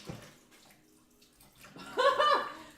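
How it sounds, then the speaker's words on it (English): A kitchen tap running on full yet giving only a thin trickle of water, a soft splashing that swells near the end of the clip after quieter stretches, with no talk over it. "Do you hear that trickle of water? That's it on full blast."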